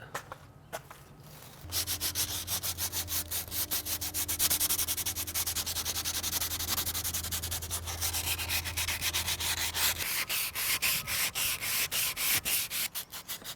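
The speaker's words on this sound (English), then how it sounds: "I'll give you some finer sandpaper once you go over it with that, with the 80 grit" 80-grit sandpaper works along an Osage wood selfbow in fast, even back-and-forth strokes, making a steady rasping scrape close by. The strokes keep a regular rhythm for several seconds over a low background drone.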